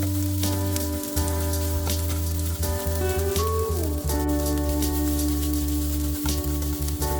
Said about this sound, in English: For the fried rice, first add and fry the garlic, lots of it